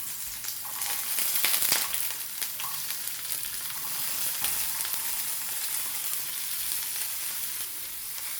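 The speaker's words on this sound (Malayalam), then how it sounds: "ഇനി ഇതിലേക്ക് ഇടുന്നത് ചോപ്പ്ഡ് ഓണിയനാണ്." Chopped onion frying in a little oil, a bright continuous sizzle with occasional crackles and a few stirring knocks, close and fairly loud throughout, no voices.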